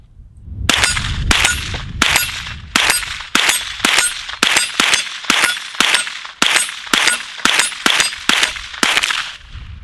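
A CZ Scorpion EVO pistol fires rapidly at steel targets: about sixteen loud, evenly paced shots, each followed by a bright ringing clang of metal.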